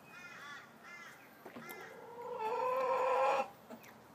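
A hen building her nest gives a run of clucks and a drawn-out squawking call, close and fairly clear, with a few soft rustles around it.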